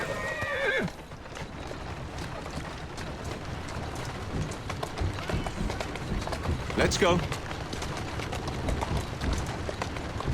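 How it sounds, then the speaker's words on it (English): A horse in Assassin's Creed Syndicate whinnies loudly at the start, then gallops with steady, rapid clip-clop hoofbeats throughout, while someone speaks briefly over the running. "Who's a good horse?"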